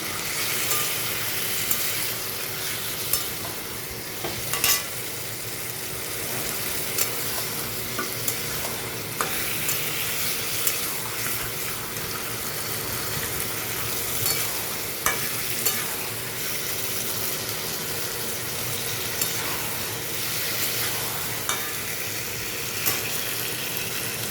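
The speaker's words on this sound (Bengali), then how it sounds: "এখানে একটু জল দিয়ে দিলাম কষানোর জন্য" Potato and pointed gourd curry sautés in a pan with a splash of water, giving a steady close sizzle with scattered light clinks and stirring scrapes, no voices.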